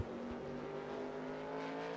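Race car engine in the NR2003 racing game holds a high, steady rev through a Whelen Modified race, a continuous loud drone with harmonic whine and no talking.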